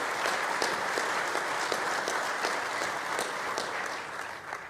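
A crowd at a ballpark groundbreaking ceremony applauds elected officials, two state senators, with steady, dense clapping that holds throughout and fades slightly at the end.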